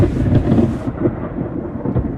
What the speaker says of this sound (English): we just had a very close lightning strike right in front of us